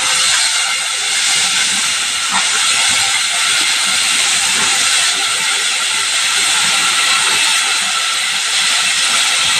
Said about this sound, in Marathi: आता वर हे मी वाटाणे टाकणार आहे